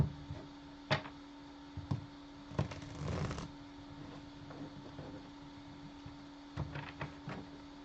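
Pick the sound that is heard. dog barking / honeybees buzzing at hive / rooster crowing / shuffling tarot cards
shuffling tarot cards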